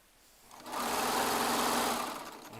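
Baby Lock Triumph serger stitching in a fast, loud buzzing run that starts after a brief quiet lead-in, holds steady, then eases off near the end, alone with no voices.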